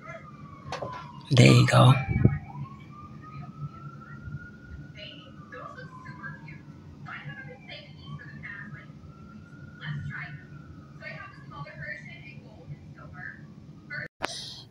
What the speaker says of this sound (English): The sirens that you can hear in the audio are the same sirens